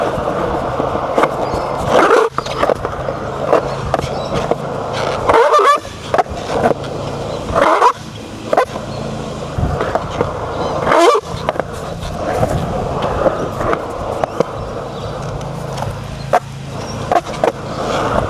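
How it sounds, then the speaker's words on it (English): Skateboard rolling on Bones X97 V7 wheels performing power slides, a steady loud rumble of the wheels on pavement broken by several sharp scraping slide bursts, with no talking. "So I'll try a few power slides and I'll see how they go."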